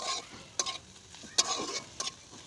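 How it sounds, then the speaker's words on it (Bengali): Rice frying in a pan gives a quiet, soft sizzle, broken by three short scraping strokes as it is stirred. "চালটা আমার ভাজা ভাজা হয়ে গেছে, এবার তুলে নেবো আমি।"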